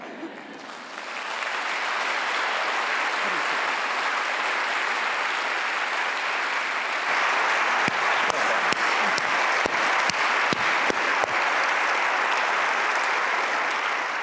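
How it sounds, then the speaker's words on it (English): Loud, sustained audience applause at a talk on high-risk infants, building quickly into a dense wall of clapping that runs well over ten seconds, with a few sharp individual claps standing out in the later stretch. "Steph got the loudest and longest applause"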